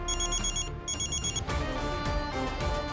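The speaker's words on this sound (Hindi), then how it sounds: "कॉल आएगा ये तो पता था, पर इतनी जल्दी आ जाएगा ये नहीं पता था।" Telephone bell ringing with an incoming call during a Hindi TV drama scene, two bursts of bright, trilling rings separated by a short gap, followed by background music swelling in; loud and close, with no talk.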